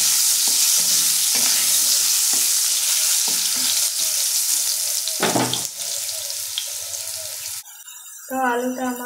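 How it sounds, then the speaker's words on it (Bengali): Potatoes coated in salt and turmeric sizzle loudly in hot oil in a pan, with repeated scraping stirs throughout and a faint voice near the end. "এগুলো একটু ভাজা ভাজা হয়ে গেলে এর মধ্যে দিয়ে দেবো আমি আলু"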